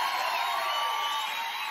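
A church congregation at a worship service applauds and cheers, a steady wash of clapping and voices filling the room without breaks.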